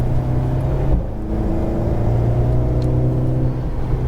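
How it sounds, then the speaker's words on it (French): An Alpine sports car's engine accelerates hard on a racetrack, a loud, steady droning rev under continuous load with a brief dip near the one-second mark before the pull resumes. "On accélère de plus en plus fort."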